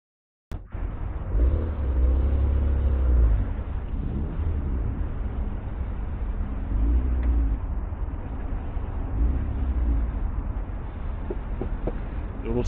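A Porsche 911 Turbo S (992), rated at 650 horsepower, cruises the Shuto Expressway Wangan Line, giving a steady, loud engine and road roar with surges of deeper rumble throughout.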